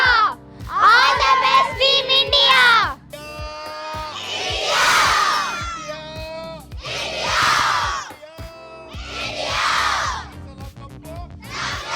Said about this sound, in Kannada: ದಾವಣಗೆರೆಯಲ್ಲಿ ಕ್ರಿಕೆಟ್ ತರಬೇತಿ ಪಡಿತಾ ಇರುವಂತಹ ಮಕ್ಕಳು ಭಾರತ ತಂಡದ ಪರ ಜೈಕಾರ ಕೂಗಿದ್ದಾರೆ